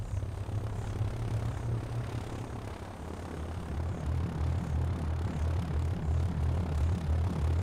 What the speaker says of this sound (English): At first light, the spotter plane sets out again.